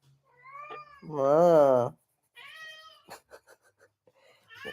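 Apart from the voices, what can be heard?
cat meowing loudly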